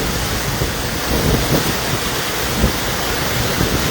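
A waterfall plunging from about 5000 feet sends up a steady, dense roar of rushing water that fills the whole scene without pause, with no voices over it.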